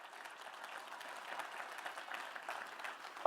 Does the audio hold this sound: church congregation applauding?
yes